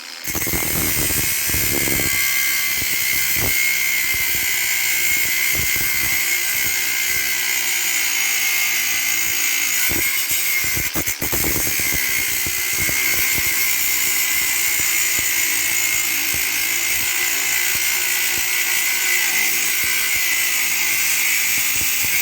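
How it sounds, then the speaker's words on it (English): A high-pitched power tool grinds through an old bracket on a Reliant Robin. The whine is continuous, loud and close, with occasional shifts in pitch as it bites into the metal. "I'm just going to nip the rest of this bracket off here, so it gives me something to weld the new bracket to."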